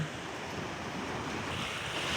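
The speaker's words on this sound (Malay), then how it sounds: "Ombak dekat sini agak kuat." Strong sea waves surge and wash onto a beach in Pattani or Narathiwat, a steady roaring surf with wind noise across the whole stretch, no voices.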